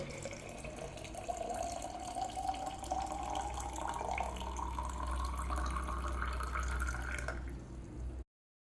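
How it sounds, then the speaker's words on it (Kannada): Hot water pours steadily into a flask, the gurgling fill rising gradually in pitch as the vessel fills, close and continuous for about eight seconds before stopping abruptly. "ಇವಾಗ ಈ ಪ್ಲಾಸ್ಕಿನೊಳಗೆ ನಾನು ಬಿಸಿ ನೀರನ್ನು ಹಾಕ್ತೇನೆ"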